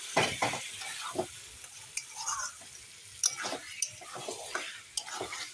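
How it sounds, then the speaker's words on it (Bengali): Chicken frying in a pot is stirred with a utensil, bringing irregular scraping knocks and clinks over a soft sizzle, close and unaccompanied by talk. "এখন ভালো করে নেড়ে দেব চিকেন তো দেওয়া হয়ে গেছে"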